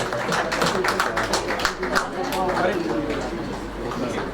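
Sustained audience applause at a Hindi book-launch event for a lyricist, a dense wash of many hands clapping steadily throughout, with voices mixed in.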